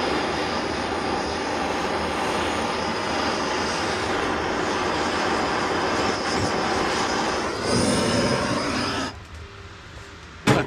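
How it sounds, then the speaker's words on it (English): A street sweeper rumbles past, a loud, steady broadband roar and whine that swells near the end and then cuts off abruptly, with no talk over it. "A street sweeper came by right as I was trying to make a video."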